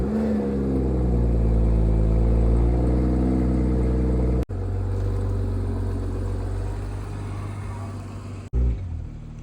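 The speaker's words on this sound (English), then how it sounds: "But I will move my car right here so it's easier to come in and out of the shop." A 2022 BMW M240i G42 idles and pulls forward slowly in a shop, its engine humming steadily at close range, then cutting out abruptly twice, with a brief restart in between.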